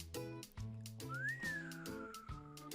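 A person whistles a short, wavering tune alone, close and moderately loud, with a sliding pitch through the middle.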